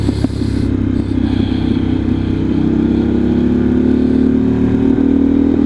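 A 2023 Harley-Davidson Pan America motorcycle engine brakes while being ridden in sport mode, giving a loud, continuous low drone whose pitch slowly shifts, with wind rush over it and no talking.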